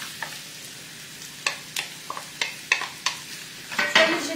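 Smoked lardons sizzle in a pan under a low hiss while a utensil scrapes and taps the pan in a run of roughly evenly spaced strokes, close up, ending in a louder burst of stirring.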